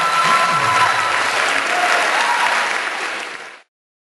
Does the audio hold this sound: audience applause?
yes